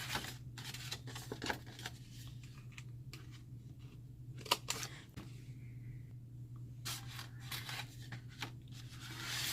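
Scissors cutting the sides of a paper clutch pattern: a series of soft, close snips and paper rustles at an uneven pace over a steady low hum.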